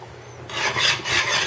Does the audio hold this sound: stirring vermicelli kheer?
yes